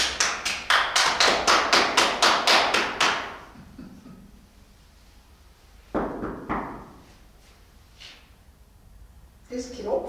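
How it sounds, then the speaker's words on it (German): A rapid run of about a dozen loud, sharp knocks comes close by, then a pause, then a few more isolated knocks and thumps at a steady room level. "Das Klopfen ist gut."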